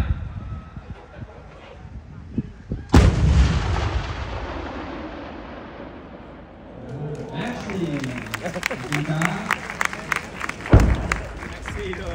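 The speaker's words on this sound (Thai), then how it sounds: "หมู่ปืนพร้อมแล้วยิงได้" Thai army towed artillery guns fire at a square target on a hill at Khao Phu Lon: one loud, sudden boom near 3 s rolls into a long decaying rumble, with another heavy blast near 11 s and someone talking on a loudspeaker between shots.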